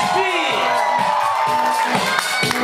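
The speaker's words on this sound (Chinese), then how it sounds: "这个时候要掌声跟尖叫声。" Audience at a live stage performance cheering, whooping and shouting loudly, with some clapping mixed into a dense, continuous crowd roar.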